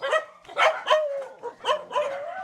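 A street dog barks close by in quick bursts, about six sharp barks and yips in a little over two seconds, with whiny tails between them and no talk.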